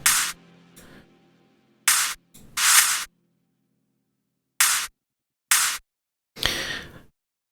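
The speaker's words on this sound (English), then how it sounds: "I have two different clap samples, and they sound like this." Two clap drum samples play back one at a time in Ableton Live as sharp, bright bursts. Six hits land at irregular intervals with silence between them, and a few carry a short ringing tail.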